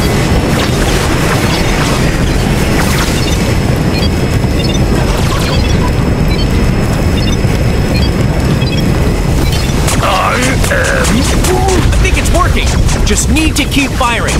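Weapon fire in LEGO Marvel Super Heroes 2 booms and crashes repeatedly over continuous game music and effects, loud and dense, with a voice speaking part of the time and sharper impacts near the end.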